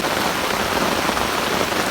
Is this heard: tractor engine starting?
no